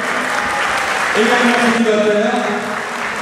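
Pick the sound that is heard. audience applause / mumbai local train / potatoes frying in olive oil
audience applause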